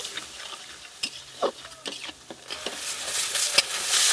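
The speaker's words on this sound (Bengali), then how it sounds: "এখন মশলাটাকে কষিয়ে নেব" Spice paste with salt and turmeric sautéed in a pan for a shol fish curry, giving soft sizzling and a few sharp spatula scrapes over about four seconds, growing louder toward the end.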